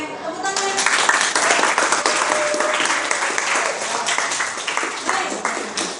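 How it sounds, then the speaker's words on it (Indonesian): Students clapping together in a high school classroom during an e-learning lesson, a loud, dense burst of applause lasting several seconds with faint voices underneath. "Oke, tepuk tangan."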